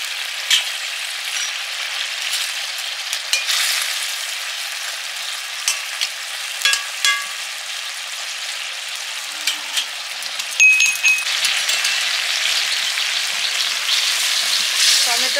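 Small river fish sizzle in a kadai with tomato, a continuous bubbling fry close by with a few faint clinks of stirring and no talk.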